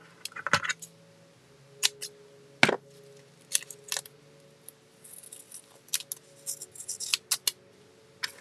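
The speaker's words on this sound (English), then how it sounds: "Scissors." Scissors snip paper in short, sharp bursts, several separate cuts spaced irregularly in a quiet room.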